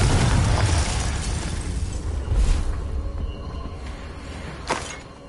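A Confringo blasting spell goes off in Hogwarts Legacy amid battle noise, a loud booming burst at the start followed by rumbling debris and a second sharper crack near the end, with no talking.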